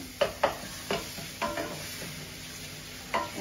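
Onions and spices frying in a pan, stirred with a utensil: several distinct scraping stir strokes at irregular intervals over a soft steady sizzle, close and moderately quiet.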